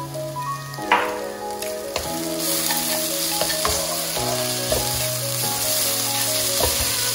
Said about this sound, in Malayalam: ഇപ്പൊ സബോളയൊക്കെ ബ്രൗൺ ആയി തുടങ്ങിയിട്ടുണ്ട്. ഇനി നമുക്ക് മട്ടൺ ഇട്ട് കൊടുക്കാം അതിനു മുമ്പ് കുറച്ച് ഉപ്പ് ഇടാം